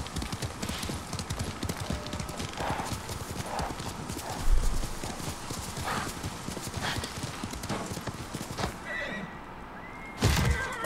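A horse gallops in the samurai video game Ghost of Tsushima, with steady rapid hoofbeats throughout, brief whinnies and a voice talking over it, ending in a sharp thud.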